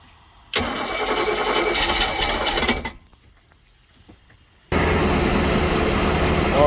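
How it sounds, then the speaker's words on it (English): A car engine with a newly installed carburetor cranks and catches on its first cold start of the day, roaring loudly, dropping briefly, then surging back to a steady loud run. "So this is the first cold start of the day."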